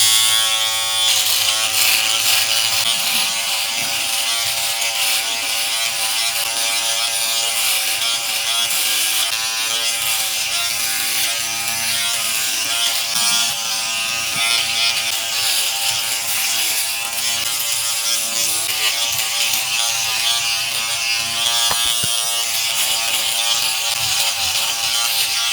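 A Philips BodyGroom Series 5000 shaves without its comb, giving a loud, close, continuous electric buzz with a rattling mechanical edge that shifts slightly as the shaver moves, with no talking.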